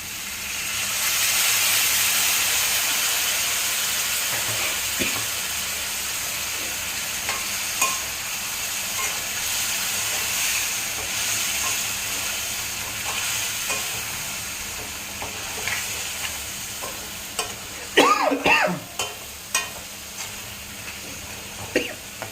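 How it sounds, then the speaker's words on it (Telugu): Tamarind juice goes into a sizzling crab curry (endrakaya iguru), with a continuous frying hiss and scattered scraping, stirring clatters that grow sharper and louder toward the end. "చింతపండు పులుసు దీంట్లో చింతపండు పులుసు పోసుకోవాలి మనం"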